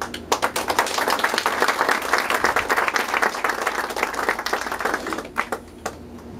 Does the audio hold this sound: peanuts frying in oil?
no